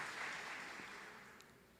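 A church congregation applauds, a broad wash of clapping that fades gradually over under two seconds, faint and distant-sounding.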